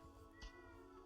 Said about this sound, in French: vous devez entendre un chat qui miaule dehors